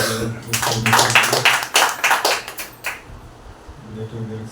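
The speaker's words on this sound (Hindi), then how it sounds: "जोरदार तालियां" Loud, brisk clapping fills a room at a Wednesday church service, a dense burst of many hands that ends abruptly, followed by a quieter stretch with a voice faintly present.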